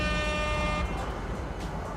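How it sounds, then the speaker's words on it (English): A loud air horn blast rings out as a sustained harmonic tone for most of a second and then cuts off, leaving a dense roaring noise bed. "I raise you an air horn"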